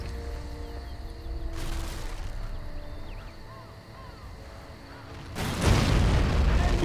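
Explosions from shooting in the video game MOWA 2: a muffled, rumbling boom swells early on and a heavier, louder blast hits near the end, over a continuous low background rumble.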